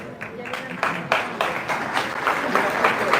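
Applause from a church congregation welcoming a visiting sister, a steady wash of clapping that builds and holds, with a voice speaking over it.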